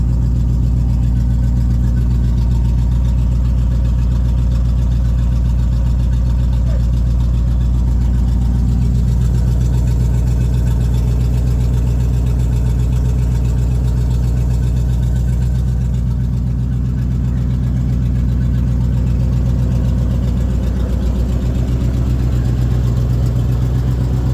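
A 1984 Chevrolet C10 truck with headers and a custom exhaust idles steadily and loudly at close range, a deep, even rumble holding throughout with no talking.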